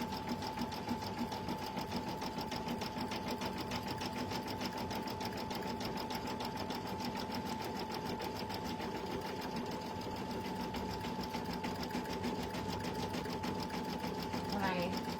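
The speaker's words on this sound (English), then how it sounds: "as we sit here and just watch the machine stitch" An embroidery machine stitches a freestanding design with a steady, rapid mechanical whir and dense needle rhythm that runs throughout, with a faint voice talking over it.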